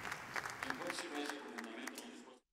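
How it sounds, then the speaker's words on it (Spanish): Steady applause from a group of legislators in the Senate, a dense patter of claps that carries on evenly for a couple of seconds before cutting off. "Legisladores le aplaudieron"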